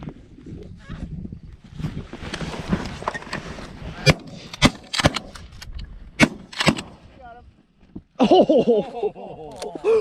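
Shotgun blasts during an early-season goose hunt in North Dakota, several sharp close shots in quick succession, with geese honking loudly near the end.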